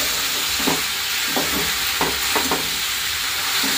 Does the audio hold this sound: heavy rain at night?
no